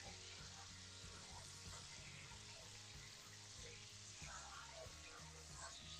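Butter sizzles softly in a frying pan while being stirred, a faint continuous hiss with light scraping, quiet and steady throughout.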